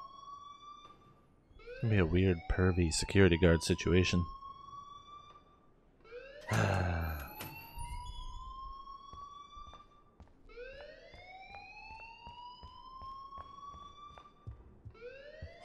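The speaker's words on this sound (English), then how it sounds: "please turn off that alarm" Alarm in the video game Life Is Strange: a loud, repeating rising electronic siren-like wail sweeps several times, with people talking over and between the cycles.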